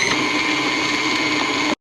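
An electric mixer whirs steadily as it beats butter for shortbread-style biscuits, a close, even motor drone that runs without a break for under two seconds and then cuts off abruptly.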